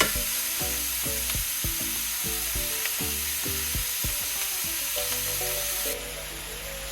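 Beef mince fries in its own grease in a pan, a steady close sizzle with repeated low scraping knocks as it is moved around, the sizzle dropping slightly toward the end.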